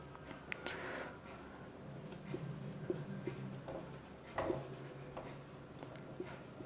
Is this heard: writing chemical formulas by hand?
yes